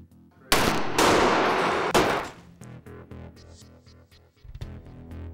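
Small rocket firework fired in a chemistry experiment, a loud, close hissing blast that roars for about a second and a half, then fades into scattered crackles and a final burst of pops.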